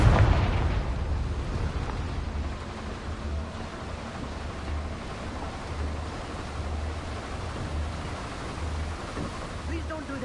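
A Confringo fire spell in the Hogwarts Legacy video game bursts in a loud, booming explosion at the start, fading into a long rumbling roar with low pulsing tones beneath.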